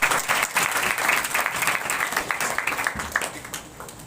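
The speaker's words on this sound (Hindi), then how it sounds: "ताली बजाकर उनका स्वागत करें।" A church congregation at a healing and deliverance prayer meeting clapping to welcome their pastor: steady, fairly close applause from many hands, continuing throughout and fading slightly toward the end.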